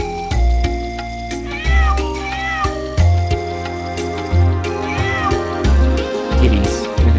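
Cats meow repeatedly in a cat house in the video game Wild Arms 2, their rising and falling cries cutting through looping game music with steady low beats and a trickling water effect.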